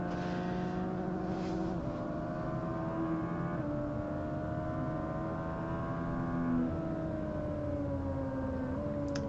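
A car on a race track during a novice group session accelerates down the main straight, the engine note climbing steadily through the gears with a brief dip at a shift, loud and continuous from inside the cabin.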